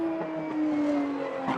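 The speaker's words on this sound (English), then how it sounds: "There, the Lamborghini SCV12" Lamborghini SCV12 race car passing on a circuit, a brief steady engine howl heard from a distance, moderately quiet and alone.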